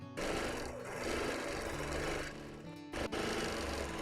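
A sewing machine free motion quilting 1930s feedsack fabric, a continuous rapid mechanical stitching whir with a brief pause near the three-second mark before it resumes, close and alone without talk.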